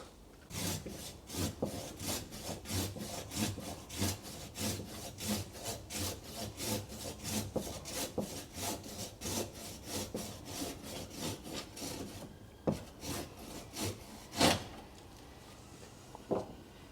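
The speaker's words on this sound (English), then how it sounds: "I think with the saw, Steve, if you cut this off and cut that off while we're at it, that will give it a chance to go better" Hand saw cutting branches off a maple tree, rapid rhythmic rasping strokes repeated steadily for most of the clip, then slowing to a few isolated strokes near the end.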